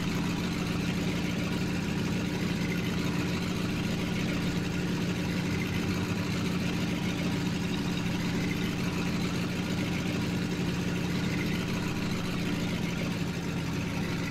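A tractor engine in Farming Simulator 17 runs steadily with a constant low drone and hum, even and unbroken, with no talk over it.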